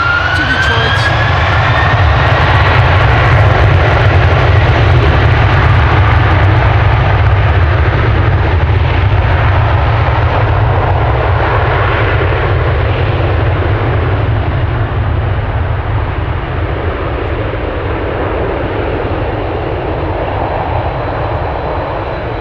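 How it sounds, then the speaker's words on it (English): A Delta Airlines jet airliner bound for Detroit departs Amsterdam Schiphol, a loud, sustained low engine roar that slowly fades over more than twenty seconds, with a voice speaking over it. "Delta Airlines Flight 135 to Detroit."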